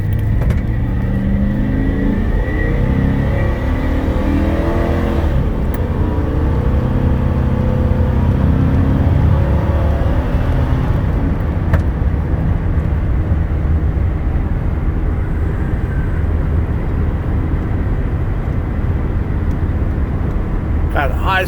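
A 2005 Chevy Express 3500 passenger cargo van with a 6.0 Vortec engine drives along, its engine a steady low rumble with road noise heard from inside the cabin, holding fairly constant throughout.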